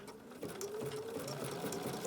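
A Bernina sewing machine fitted with an open toe foot stitches raw-edge appliqué fabric, giving a steady, close mechanical whir that runs without a break and without talk.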